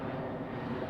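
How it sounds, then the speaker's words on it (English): Low, steady droning of an airplane flying overhead, heard for a moment as a close, fairly loud rumble with no talk. "There's a plane going overhead at the moment as well"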